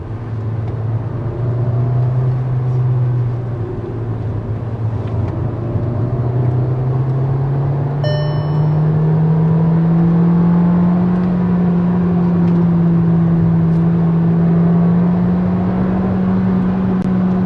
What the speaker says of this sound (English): Listen to the engine again.